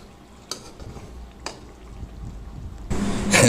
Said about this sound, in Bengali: চিকেন কারির ঝুলটা আর একটু কষাবো কারণ কষা কষা খেতে আলাদা একটা মজা